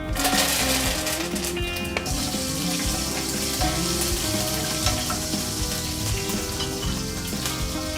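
Cumin, fenugreek seeds and curry leaves fry in hot oil for a fish curry, producing a loud, steady crackling sizzle that runs unbroken throughout with no talking.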